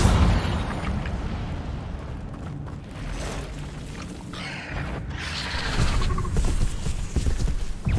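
Incendio fire spells are cast repeatedly in the game Hogwarts Legacy, with crackling whooshes and bursts of flame mixed among other spell impacts, a loud and busy stretch of combat effects with no talking.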